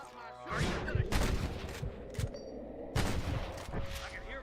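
Several bursts of gunfire ring out in a Red Dead Redemption shootout, loud volleys at about 0.6, 1.2, 2.2 and 3 seconds over a busy background of game noise.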